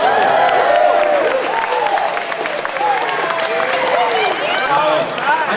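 Audience clapping and cheering at a Full Sail University presentation, a dense, sustained wash of applause from a crowd close by, with scattered shouts and whoops rising over it.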